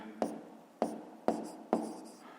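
Pen or pencil writing out a fifth-grade math solution: four short scratchy strokes land at an even pace, close and fairly quiet, with no talking.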